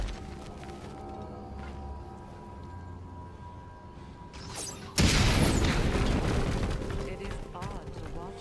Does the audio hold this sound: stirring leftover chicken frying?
no